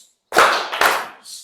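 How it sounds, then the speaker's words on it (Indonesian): A group clapping pattern called tepuk diam in a classroom setting: two sharp, close claps about half a second apart, then a brief softer trailing sound, with no talking. "itu namanya tepuk diam ya"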